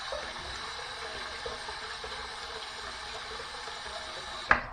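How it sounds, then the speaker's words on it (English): Hot tap water runs steadily into a sink as a razor is warmed for shaving, a continuous soft hiss and gush that ends in a brief sharp knock. "Gonna get some hot water and run this underneath the hot water."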